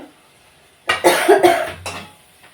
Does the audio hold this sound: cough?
yes